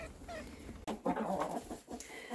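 Chickens clucking softly nearby in short, irregular bursts against a quiet, slightly noisy background, in snowy weather.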